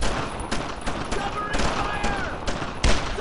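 Sustained gunfire from a World War II squad firefight in the video game Brothers in Arms, with dense overlapping rifle and machine-gun bursts filling the whole stretch and a louder crack near the end.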